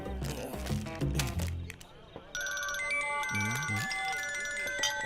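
A mobile phone starts ringing with an incoming call in a film scene, a bright repeating melodic ringtone that cuts in suddenly after a stretch of music and voices and keeps sounding steadily to the end.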